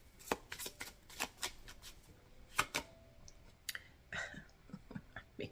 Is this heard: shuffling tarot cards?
yes